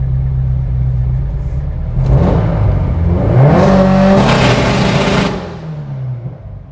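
A 900 hp Subaru STI on launch control at about 5,600 RPM idles low, then rises into a loud, sustained, crackling rev held for several seconds before dropping back to a rough idle, close and alone.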